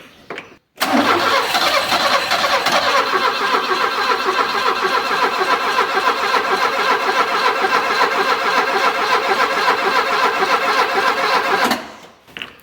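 A 34-year-old Alfa Romeo 33 on carburetors, not run in 23 years and with a faulty fuel pump, cranks with a steady rapid churn for about ten seconds, loud and close, then stops.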